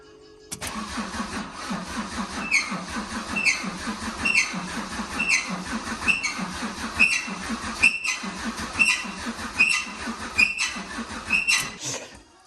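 A Land Rover Defender 90 engine cranks over in a workshop, its starter churning in a steady repeated rhythm with regular clicking pulses for about eleven seconds before cutting off.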